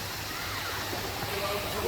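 Water features at an older beach resort in Penang, Malaysia splash and rush steadily in a continuous broadband wash, fairly close and even in level throughout, with a faint murmur of voices mixed beneath.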